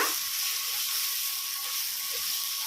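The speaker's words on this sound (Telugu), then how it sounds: "అల్లం వెల్లిపాయ పేస్ట్ పచ్చివాసన పోయే వరకు వేయించుకోవాలన్నమాట." Ginger-garlic paste fries in a pan for an egg curry, giving a steady close sizzle that stays even throughout with no voices.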